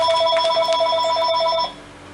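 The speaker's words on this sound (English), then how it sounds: "And that's a phone call, which is really frustrating." A telephone rings loud and close, a steady, rapid electronic trill that lasts for over a second and a half and then stops, leaving quiet room tone.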